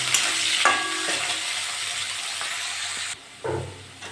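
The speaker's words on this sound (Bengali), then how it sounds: "ছোলা দিয়ে ভালো করে ভেজে নিয়েছি।" Chickpeas and onion fry in a pan with a steady close hiss and sizzle, stirred now and then with scraping clatters, briefly dipping near the end before the sizzle returns.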